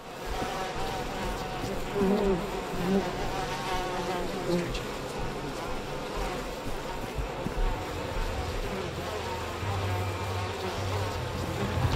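A constant drone of bees buzzing fills a scene in the video game We Happy Few, dense and close, holding steady for the full twelve seconds with slight swells and a low hum underneath.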